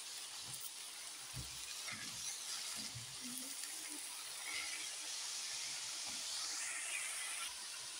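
Cabbage, beet, carrot, onion and tomato paste stew in a pan for a meatless borscht, giving a steady, even hiss and sizzle that runs unbroken throughout with a few faint knocks underneath.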